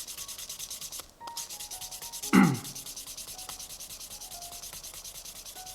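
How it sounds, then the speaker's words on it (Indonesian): Steady, rhythmic scraping of 1000-grit sandpaper rubbed back and forth in quick strokes over vegetable-tanned leather, close up, with one brief louder knock midway. "Ya di amplas sedikit, amplas 1000 dah"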